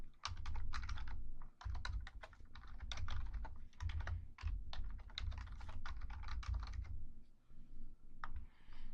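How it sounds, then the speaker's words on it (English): Fingers type steadily on a computer keyboard, a close, quiet patter of rapid key clicks with a few short pauses. "Type in as much or as little as you'd like."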